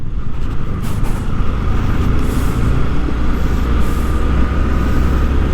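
A 2021 Yamaha V3 motorcycle engine on a test ride, a steady loud low drone with rushing road and wind noise, running continuously without talk.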